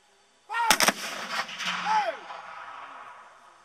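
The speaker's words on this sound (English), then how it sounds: "The first he's going to demonstrate is fire by company, where each company fires independently at the direction of its captain." Confederate reenactors fire muskets by company at Gettysburg, Pitzer Woods: a sudden crackling volley of a few close shots, then a long rumbling echo fading out, with a faint voice calling during the echo.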